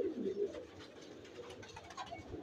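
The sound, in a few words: pigeon cooing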